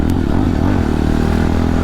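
A 2025 Jawa 42 Bobber motorcycle engine under throttle, a loud, steady close-up drone with rising and falling pitch as the rider works the throttle, with no talk.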